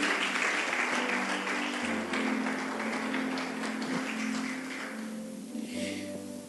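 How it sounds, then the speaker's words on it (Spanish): Congregation applauding in a Spanish-language church service, steady moderate clapping from many hands over a sustained organ or keyboard chord, gradually fading toward the end. "Dale un aplauso a la palabra del Señor."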